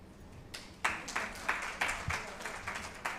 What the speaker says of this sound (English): a round of applause for yourselves, everyone who participated as well, a round of applause